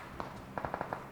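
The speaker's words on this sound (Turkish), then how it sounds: "Farklı yerlerden silah sesi geliyor sürekli" A handful of sharp, distant gunshots ring out, one alone and then a quick irregular cluster of four or five, faint against a quiet background.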